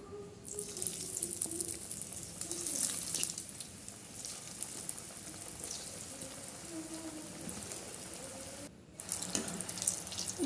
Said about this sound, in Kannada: ಈಗ ಇವನ್ನ ನಾವು ಡೀಪ್ ಫ್ರೈ ಮಾಡೋಣ.